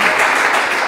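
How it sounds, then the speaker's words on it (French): Loud, close applause from a crowd at a quiz contest greets the game's winner, a brief dense burst of clapping. "on peut l'applaudir bien sûr."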